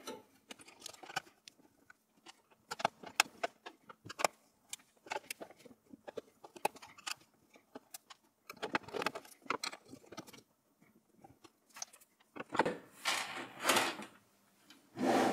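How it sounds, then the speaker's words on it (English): Phillips screws come out of a Lenovo M91p desktop case as the motherboard is freed, heard as a series of quiet metallic clicks, ticks and rattles scattered irregularly, growing into louder scraping handling toward the end. "Finally, we can unscrew the motherboard from the case. It's held in place with 8 screws"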